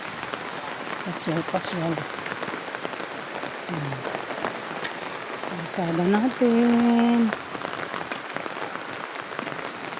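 Steady rain falls on a street, a dense even hiss throughout, while a person talks over it and a few brief tonal sounds cut through near the middle.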